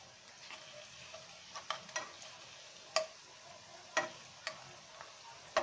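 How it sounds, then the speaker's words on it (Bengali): Onions frying in a pan for vegetable macaroni, with a steady low sizzle broken by several sharp scraping clicks of a spoon stirring them at irregular intervals, fairly faint and close. "আমাদের পেঁয়াজটা প্রায় ভাজা হয়ে গিয়েছে।"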